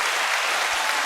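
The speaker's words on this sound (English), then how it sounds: "That clap was way too long" Dense, steady applause from an audience at a podium event, continuous and fairly loud for about a second with no voices over it.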